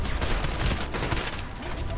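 Rapid gunfire bursts from the video game Trepang2, loud and dense with repeated shots, some in quick automatic-style volleys.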